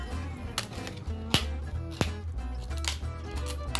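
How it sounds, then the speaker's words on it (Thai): A knife chops pumpkin into bite-sized pieces on a board, giving a few sharp, close cutting knocks at irregular intervals over a quiet kitchen background. "หั่นฟักทองเป็นชิ้นพอคำใหญ่เล็กตามชอบ"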